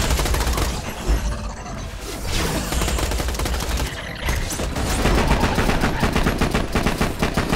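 Rapid automatic gunfire in Borderlands: The Pre-Sequel, loud, sustained bursts of machine-gun fire with brief lulls between volleys, no talking over it.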